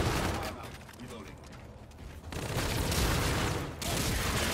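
Pistol shots and battle noise from Infinite Warfare multiplayer, loud rolling gunfire swelling and cutting off abruptly, mixed with speech.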